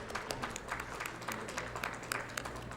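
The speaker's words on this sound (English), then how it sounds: "So we'd like to give them a round of applause." Festival audience applauding at a multicultural event, a steady wash of many hands clapping at moderate distance with no voices over it.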